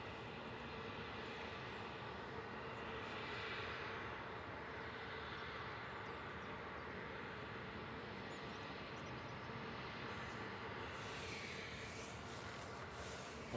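Aircraft at Manchester Airport, a faint, continuous distant rumble of jet engines that swells slightly and then holds steady throughout.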